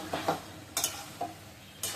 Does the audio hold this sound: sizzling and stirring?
yes